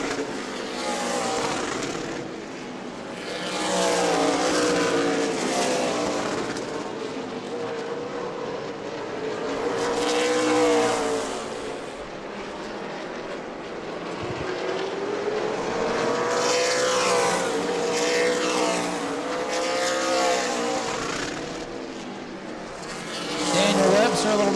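Super late model race cars roar around the New Smyrna oval in a Sunbelt Series race, engines rising and falling in pitch as they pass, with a commentator talking over the continuous racing noise.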